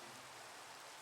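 Rain in a Minecraft modpack game world, a soft, even hiss of falling drops that holds steady and quiet for a moment with no other sounds.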